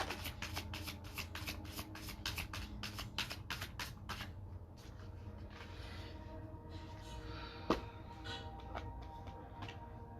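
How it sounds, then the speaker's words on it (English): Rapid riffling flutters of cards being shuffled, a quick run of crisp bursts for a few seconds, then softer card handling and a single tap. "I'm going to finish this shuffle."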